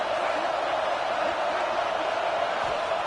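A stadium crowd in a football video game roars during a tense third-down play in the red zone, a dense, steady wall of cheering noise that holds loud and unbroken throughout with no voices on top.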